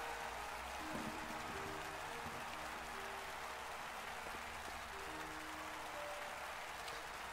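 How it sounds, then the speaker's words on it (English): Steady crowd applause after a dance performance in the video game Octopath Traveler 2, a dense continuous patter of clapping, fairly faint, with soft musical tones drifting underneath. "the pair left the stage, to the sound of thundering applause"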